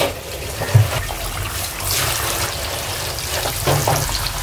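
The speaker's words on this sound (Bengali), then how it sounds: "আমি মাছগুলো এখন ভেজে নিব।" Spiced fish frying in hot oil, a hissing sizzle with occasional soft pops and bubbling, fairly close and moderately loud, with no talk.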